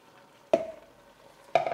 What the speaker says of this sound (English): Go ahead and dump in your tomatoes.